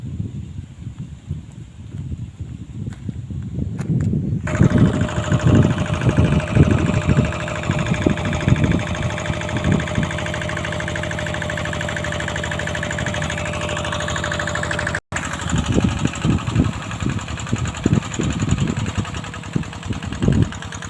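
An engine-driven water pump runs in a rice field, its steady mid-pitched motor drone continuing close and loud for most of the stretch with knocking pulses and a brief cut near the end.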